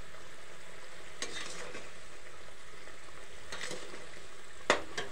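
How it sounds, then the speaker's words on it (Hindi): Spice masala for kadai paneer sizzles steadily in a pan, with a few distinct scraping stir strokes breaking through the continuous frying hiss. "देखिए मसाले को अच्छी तरह से पका रही हूँ।"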